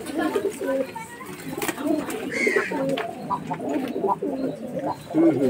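Madras pigeons coo repeatedly in soft, rolling phrases, close by, with occasional rustles and a faint voice in the background.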